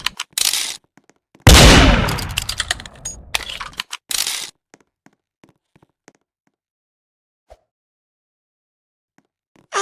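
Gunshots ring out in Roblox Murder Mystery 2 gameplay: a loud burst of sharp cracks and a dense blast early on, then scattered faint ticks and near silence.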